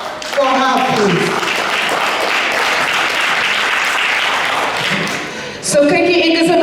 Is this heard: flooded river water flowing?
no